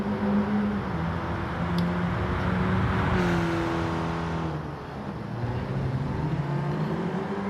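Race cars in Gran Turismo 7, including an Alpine A110 and a Mercedes A-Class AMG, with engines droning and revving steadily, pitch rising and falling as gears shift and cars pass close by.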